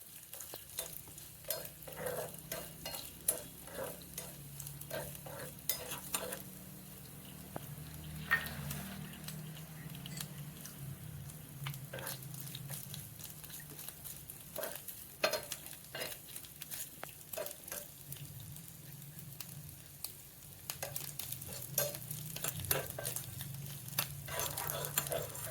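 Cut coconut pieces fry in hot oil for neyyappam, a soft continuous sizzle broken by frequent scraping taps and clicks of a spoon stirring the pan, close and fairly quiet throughout.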